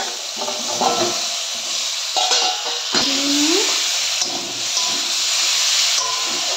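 Eggs and potatoes drop into spices frying with a little water for a Bengali egg curry, raising a steady close sizzle and hiss with a few brief stirring scrapes and clatters.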